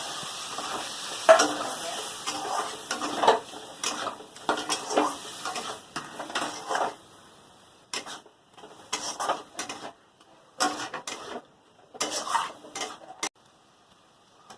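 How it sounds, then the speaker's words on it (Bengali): Prawns stirred with dudhman leaves and spices in a pan, a soft sizzle with a scraping spoon, then a run of separate clinking stirs broken by short quiet pauses. "দুধমানের পাতার সঙ্গে চিংড়ি মাছ দিয়ে একটুক্ষণ নেড়ে নিয়েছি"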